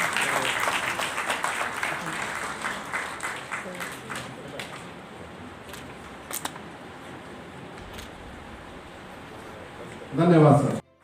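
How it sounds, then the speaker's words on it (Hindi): Loud applause at a teachers' association gathering, a sustained patter of many hands that slowly thins out, followed at the end by a short burst of nearby speech. "जोरदार तालियां।"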